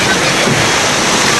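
Rough sea waves at a beach roar as a loud, steady broadband wash with no distinct breaks, filling the whole moment.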